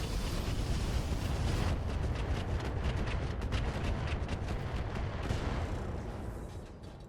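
Mech weapons firing in RogueTech BattleTech: loud, sustained barrage of overlapping booming shots and explosions, dense and continuous with rapid impacts, tapering off slightly at the end.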